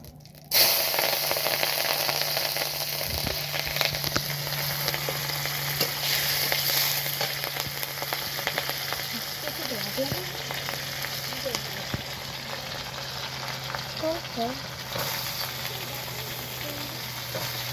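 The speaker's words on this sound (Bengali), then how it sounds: "আর এই মাছের তেলটা ভেজে নেব, মাছের তেলটা ভাজো।" Fish fat frying in hot oil for a Bengali rui fish curry with potato and eggplant, giving a loud, continuous close sizzle with crackling spatters and brief stirring scrapes.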